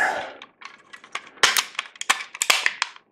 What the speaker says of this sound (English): you hear that nice audible click